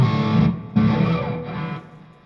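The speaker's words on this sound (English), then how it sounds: "I had it on the distortion, rocking sound." Heavily distorted electric guitar, a few sustained gritty chords struck one after another, loud and close, the last ringing out as it fades.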